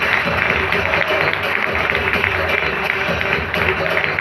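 Audience at a marketing plan presentation claps loudly and continuously along with music, a dense, sustained wash of applause throughout.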